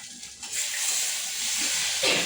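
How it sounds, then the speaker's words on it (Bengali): Leafy greens fry in a pan with a loud, continuous steamy hiss that swells after a quieter start and stays even throughout. "আমার একদিকে শাক ভাজা হচ্ছে"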